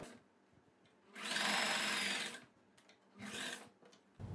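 Sewing machine stitching fabric for a churidar neck, two bursts of steady close mechanical whirring, a longer run then a shorter one, separated by quiet handling of cloth.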